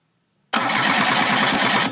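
A 993 cc Suzuki engine fitted with MSD ignition, hanging from ropes, cranks suddenly after silence, a loud, close, steady churning roar that holds for over a second.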